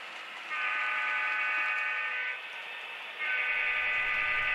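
A model train, a Rio Grande maintenance-of-way train led by an SD9 with empty ballast hoppers, rumbles steadily on a layout with a bright, sustained horn-like tone that swells, dips briefly, then sounds again; no voices.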